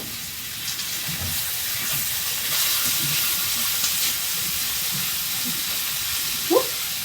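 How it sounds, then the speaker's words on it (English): Spring roll vegetables, including carrot, stir frying in an oiled pan give a steady, close, broadband sizzle and hiss that holds throughout, with faint clinks of a utensil and a brief scrape near the end. "Stir frying can be a messy job"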